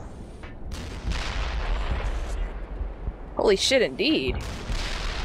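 Gunfire in the Black Mesa video game, a dense rumble of distant shots and blasts under game sound, with a voice exclaiming over it partway through.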